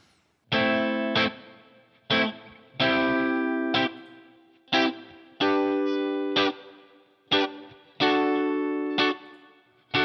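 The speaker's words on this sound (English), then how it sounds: "So here is the real guitar" Soloed real electric guitar playing distorted chords in short rhythmic stabs, each hit ringing briefly before choppy pauses, loud and close, with no one talking.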